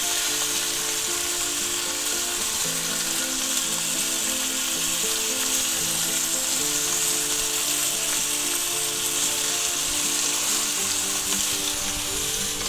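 A thick sous vide chuck roast searing in butter in a hot pan, giving a loud, dense, unbroken sizzle that holds steady throughout without any talking.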